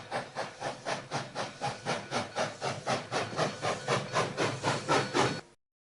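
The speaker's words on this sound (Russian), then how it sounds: "Паровоз." A steam locomotive chuffs in a steady, rhythmic series of about eighteen hissing puffs, evenly spaced and fairly close, with a faint rumble beneath.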